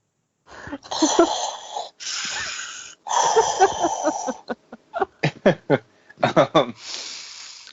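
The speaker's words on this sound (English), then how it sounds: "I'm hearing someone breathing." Someone on an online group call breathes heavily and wheezily into the microphone in several loud, close bursts, then a run of shorter, rapid huffs.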